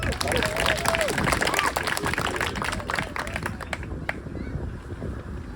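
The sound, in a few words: applause at a baseball awards ceremony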